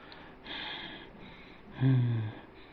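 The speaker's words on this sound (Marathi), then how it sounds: "अचानक त्यांना जोरजोराने श्वास घेण्याचे पुन्हा आवाज ऐकू आला" Heavy breathing effect in a horror story: two slow, hoarse, drawn-out breaths, the second louder with a low growling edge, set against a faint hiss.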